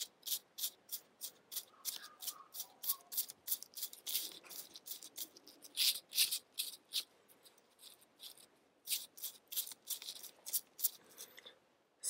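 Loose glitter being shaken off a glued cape for a peacock-style princess costume, a run of quick rattling, swishing bursts repeating in an uneven rhythm, close and fairly quiet with no talk.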